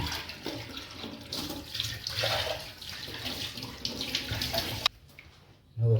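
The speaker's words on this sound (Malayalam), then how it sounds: "വെള്ളം ഒഴിച്ച് കൊടുക്കാം." Water streams from a tap into a mixer jar holding potato pieces, a close, steady gushing pour for about five seconds that stops abruptly, followed by a short thump.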